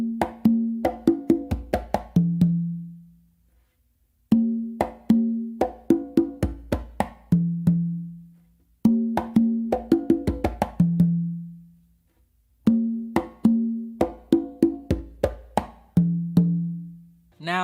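A conga tumbao groove on two congas, with slaps and open tones in repeating bar-long phrases separated by short pauses, close-miked and crisp with no talking.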